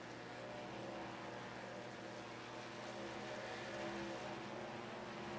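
Race trucks roar around Dover in a racing video game, a steady, continuous engine drone at moderate distance with no clear passes or breaks, sitting fairly low in the mix.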